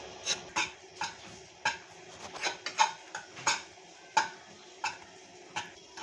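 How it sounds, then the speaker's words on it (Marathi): Wheat flour dry-roasting in a pan while being stirred, giving a run of close, sharp scraping and clinking spatula strokes against the metal at an irregular rhythm over a soft, steady background, with no voices. "हे पीठ आपल्याला भाजून घ्यायचं आहे"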